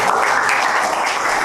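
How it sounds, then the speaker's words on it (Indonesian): A classroom audience claps for students who have just presented, a steady, dense patter of many hands filling the room evenly from start to finish. "Tepuk tangan dulu tadi yang sudah maju."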